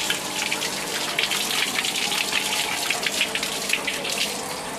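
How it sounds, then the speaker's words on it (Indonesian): Running water rinses a kris blade during a traditional washing rite, a steady close splashing gush with fluctuating, irregular spatter lasting throughout. "Air mengalir."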